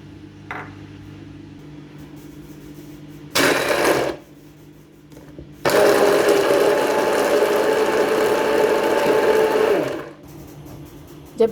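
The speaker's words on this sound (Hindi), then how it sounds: "किसी भी मिक्सी के जग या जार में लेकर उसके अंदर ये जो बादाम और काजू हमने लिए थे ये शामिल करेंगे" An electric mixer grinder jar blending almonds and cashews into a paste for sheer khurma: a short whirring burst, a pause, then a longer loud, steady motor whine that stops abruptly.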